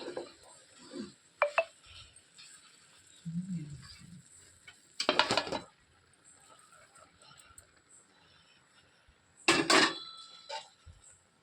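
Puffed rice being stirred and mixed in a pan, with sharp metallic scrapes and clinks of a spoon against the pan in short bursts, alongside quieter rustling and a few brief spoken words.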